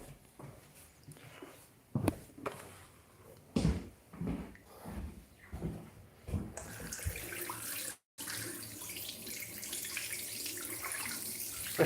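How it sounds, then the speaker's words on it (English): After some knocks and clatter, very hot water gushes from a tap into a bathtub in a steady, rushing stream close by. "Now boiling hot water coming out of here."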